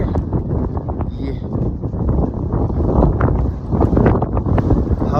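Strong wind roars across the high mountain pass of Khardung La in Ladakh, buffeting loudly and continuously against the microphone with gusty rumble.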